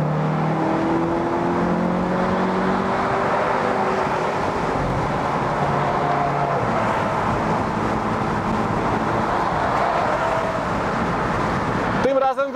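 An Audi TT Roadster drives with the roof open, its engine and road roar loud and steady throughout, with revving swells and wind noise filling the cabin until a brief break at the very end.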